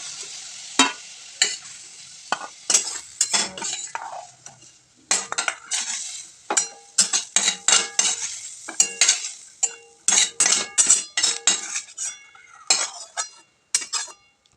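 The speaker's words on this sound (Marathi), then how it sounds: "नंतर त्याच कढईमध्ये मी साधारण 2-3 पळ्या तेल टाकलेत, त्यामध्ये जिरे टाकलेत, फोडणी द्यायची आपल्याला भाजीला।" Oil and cumin tempering being stirred in a kadhai for a spinach dish, with a soft sizzle under repeated sharp scrapes and clinks of a metal spoon against the pan, close and irregular.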